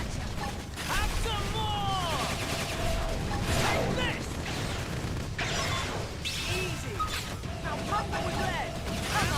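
Short rifle fire in the Xenoblade Chronicles X game, a busy stream of mechanical gun bursts and effects layered under ongoing talk, dense and steady throughout.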